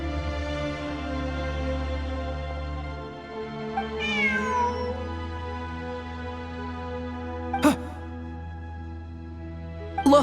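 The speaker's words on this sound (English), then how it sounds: "Look, a cat." Cat meowing in the video game Genshin Impact, a single drawn-out meow midway over steady background music, followed by a couple of short sharp game sounds.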